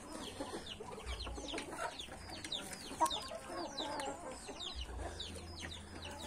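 Chickens cluck and call in a busy outdoor poultry yard, with several birds chattering steadily over a low rumble and one brief louder call partway through.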